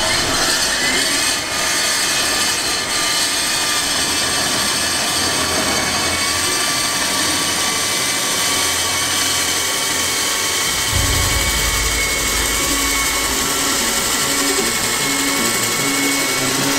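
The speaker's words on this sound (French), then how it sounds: "Donc, ici on a une carotteuse" A core drill bores through a slab or wall during an urban search-and-rescue team exercise, giving a loud, unbroken grinding whine over a low rumble that deepens and thickens partway through, with no voices.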